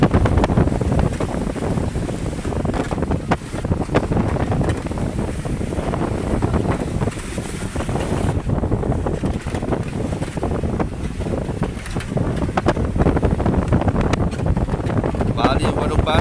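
Wind buffets the microphone as waves slosh and crash against a small boat at sea during a storm, a loud continuous roar with surging swells, and voices are faintly mixed in.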